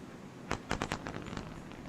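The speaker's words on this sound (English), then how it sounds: "Sonic booms." A SpaceX Falcon 9 booster returning to land after the CRS-13 launch sets off a cluster of sharp, muffled sonic booms, several thumps in rapid succession heard from a distance.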